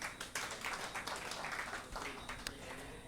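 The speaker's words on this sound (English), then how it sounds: "a round of applause for them" An audience at a nonprofit event claps for its sponsors, a faint, distant patter of many hands that holds steady throughout, with a few sharper claps standing out.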